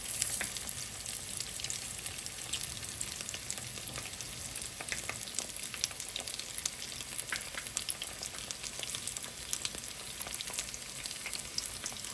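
Chicken croquettes deep-fry in hot oil with a steady, close sizzle and a dense crackle of popping bubbles that goes on without a break.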